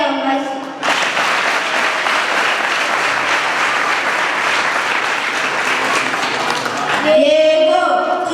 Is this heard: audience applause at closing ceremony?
yes